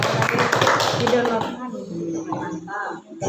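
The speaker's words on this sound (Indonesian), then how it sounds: "tepuk tangan dulu untuk Pak Humaydi" Scattered clapping from participants in an online session for a teacher, fairly close and busy for about a second and a half, then giving way to quieter talk.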